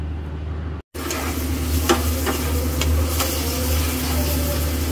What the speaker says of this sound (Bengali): পেঁয়াজ মরিচগুলো ভাজার পরে এখানে চিংড়ি মাছগুলো দিয়ে দিলাম